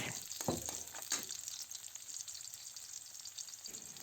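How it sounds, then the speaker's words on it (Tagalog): Chopped garlic and onion frying in a pan for Filipino dinuguan: a steady soft sizzle, with a couple of brief scraping clatters near the start, then a continuous faint hiss with no talking. "lutuin lang natin ang bawang at sibuyas"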